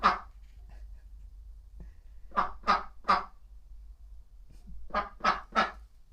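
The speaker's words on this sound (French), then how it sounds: "Et qui vient me rendre visite? Un canard." A duck quacks in short bursts, a single call followed by two quick runs of three loud, nasal quacks, close by in a quiet space.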